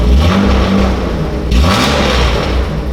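Budget BMW drift car engine revving loudly up close, rising and falling through two rev sweeps with a brief dip between, raw and loud with no talk.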